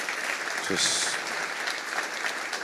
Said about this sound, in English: Let's give it up one more time for the 96th mayor of the city of Philadelphia